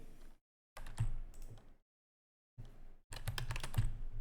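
Fast typing on a computer keyboard in bursts of close, crisp key clicks separated by short silent pauses, with no voices.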